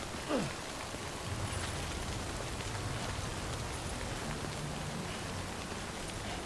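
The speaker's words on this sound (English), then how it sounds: "I guess it's always going to be raining around the Timefall farm," Steady rain falling in the Death Stranding video game near the Timefall farm, a dense continuous hiss of drops on surfaces, loud and even throughout with a brief faint thump near the start.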